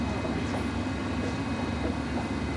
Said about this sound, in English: This is a Circle Line train via Liverpool Street and Tower Hill.